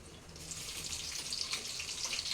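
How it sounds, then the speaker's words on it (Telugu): Onions sizzling in a pan with cumin seeds, a continuous bright crackling hiss that sounds fairly close and stays steady throughout. "జీలకర్ర వేగిన తర్వాత ఆనియన్స్."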